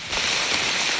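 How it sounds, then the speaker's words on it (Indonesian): Light drizzle falls on a banana and avocado garden plot during harvest, a soft, continuous patter of drops on leaves and ground that stays even and close, with no one talking. "Dan ini gerimis teman-teman."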